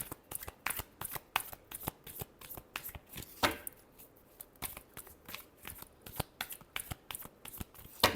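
Tarot cards shuffled by hand in a rapid run of crisp, papery riffles and slaps, steady and close, with one louder burst midway and no talking.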